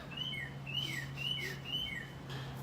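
A bird at Disneyland chirps in a series of quick, repeated descending tweets, faint but clear over a low steady hum.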